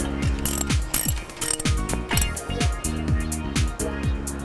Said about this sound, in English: With our 14mm socket, we tighten our 40mm bolt back into its original place.